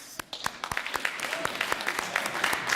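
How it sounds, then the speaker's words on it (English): A room of school honor-society inductees claps for the rest of the audience: dense, steady applause with sharp individual claps standing out, fairly close and sustained throughout. "I want the 11 of you to give everyone else in the room a round of applause"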